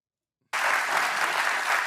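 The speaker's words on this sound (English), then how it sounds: "Why the fuck are people clapping for today?" An audience breaks into sudden applause, a dense, loud wash of clapping that starts abruptly from silence and holds steady.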